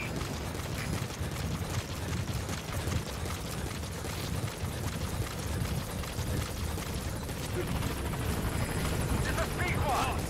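A support helicopter in Metal Gear Solid V: The Phantom Pain gives a steady, dense rotor churn that holds loud and even throughout. A voice speaks over it at times.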